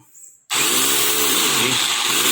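A Mitsushi rotary demolition hammer drill in rotation mode kicks on abruptly after a brief pause and runs at a loud, steady motor whine, close and continuous.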